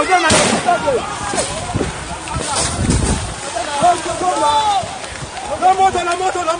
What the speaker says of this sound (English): They are shooting, you can imagine. They are shooting the prisoners.